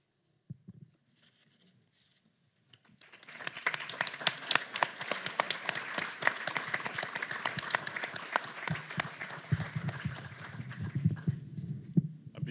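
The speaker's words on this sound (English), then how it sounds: "Being somewhat reserved in my clapping" An audience claps after a poetry reading at a Catholic literary talk, a dense sustained round of applause that swells in and stays steady for several seconds, close and loud, with low rumbling underneath near the end.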